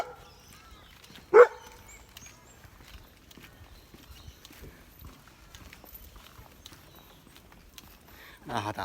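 A very large dog on a forest bushwalk gives one sharp, loud bark, then a second burst near the end, with quiet rustling between.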